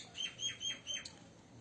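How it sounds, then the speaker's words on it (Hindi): Small birds chirp nearby in a quiet outdoor setting, giving four short, faint tweets in quick succession. "आसपास चिड़ियों की आवाज़ें आ रही हैं"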